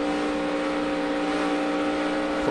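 NASCAR stock cars roar at full throttle on the restart at the 2011 Auto Club 400, a loud, steady engine drone with a high whine running unbroken, no voices over it.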